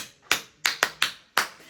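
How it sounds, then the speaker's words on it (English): Hand claps, five sharp separate claps spaced unevenly, close and crisp against a quiet background. "Let's clap for ourselves again."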